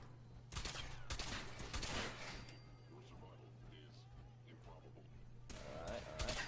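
Silenced shotgun fired in the Fallout video game: a few sharp bursts early on, another near the end, over steady game background noise with a low hum, fairly faint overall.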